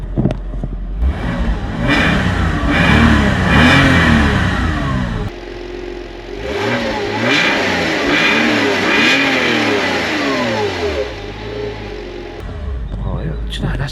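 A Porsche Boxster 986 engine revs up close in repeated rising and falling sweeps, loud and steady, with a brief drop partway through before revving again.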